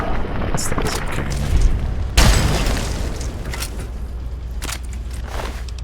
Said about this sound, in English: That's a cannon.